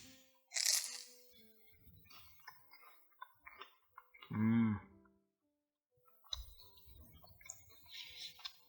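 A few sharp, close crunches of biting into crisp bread, separated by quiet pauses and faint chewing.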